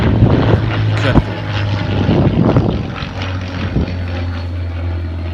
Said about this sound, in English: So this is RW382 as painted with the call sign WZRR, piloted by George Hay